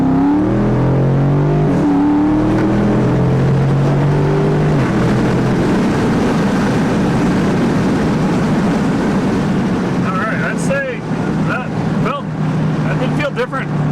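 A car fitted with a Fastman 88mm throttle body, rear tires worn, accelerates with a steady, loud engine drone that rises in pitch through the opening seconds, then holds a broad roar; faint ticks and clicks appear near the end.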